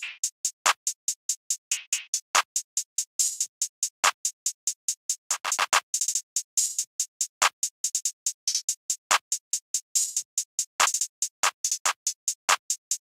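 Short open hi-hat from a drum kit landing on steps 1, 3, 5 and 7 of a trap beat, layered with sharp claps over a rapid ticking closed hat pattern, crisp and close with no talking.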